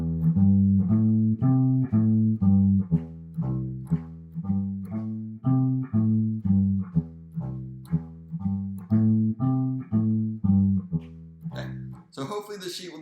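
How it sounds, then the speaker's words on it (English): A bass guitar plays a walking bass line alone, with steady, evenly spaced low plucked notes moving up and down for several bars before a brief noisy touch at the end. "the last song is going to be just like a typical walking bass line."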